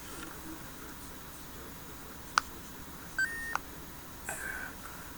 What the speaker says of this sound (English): It does make a little beep.